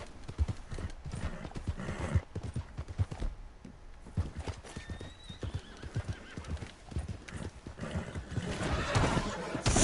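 Hooves of an American Paint horse in a video game, clip-clopping in a steady, close walking rhythm, with a whinny in the middle that stands out over the hoofbeats.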